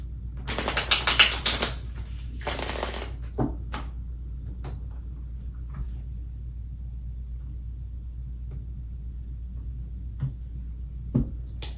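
Tarot cards shuffle in two quick riffling bursts near the start, crisp and close, followed by a few soft taps and handling noises over a low steady room hum.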